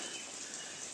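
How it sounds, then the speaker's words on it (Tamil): Water sprayed over the plants of a pepper and coffee estate makes a dense, steady hiss that sounds like rain falling on leaves. It fills the whole moment evenly, with no voices. "வாட்டரை ஸ்ப்ரே பண்ணதுனால மழை பெஞ்ச மாதிரி இருக்கா?"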